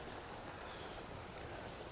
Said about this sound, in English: as you can hear the water running behind me